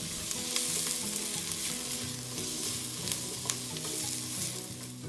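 Garlic and onion sautéing with ground pepper for pancit molo dumpling soup, a loud steady sizzle broken by spatula scrapes and taps against the pan, with no speech.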